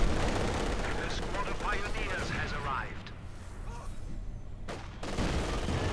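Mortar and machine gun fire in Company of Heroes 2, with dense rattling bursts and booming impacts that ease briefly before the barrage picks up again, under a voice.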